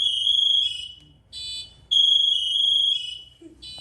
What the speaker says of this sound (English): this device goes on and on and on until one of us can actually go and rescue that firefighter and turn it off ourselves